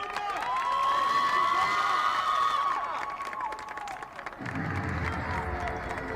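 A crowd cheers at an under-18 boys' rugby sevens match, a steady roar of shouts and whistles across the stands, dropping slightly and then swelling again with clapping near the end.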